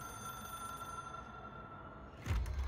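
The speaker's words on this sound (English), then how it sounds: "It is a phone." A telephone rings in the video game Control, a faint steady electronic tone under low ambient hum, then a rumbling thud near the end.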